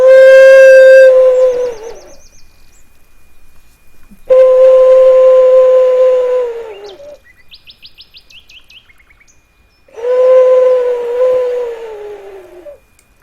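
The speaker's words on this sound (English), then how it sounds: "this is my owl, and it's a whistle, so I'm going to whistle for you guys a little bit more" An owl-shaped whistle is blown in three long, loud, pure tones with a slight downward slide at each end, separated by pauses that carry faint high beeping sounds.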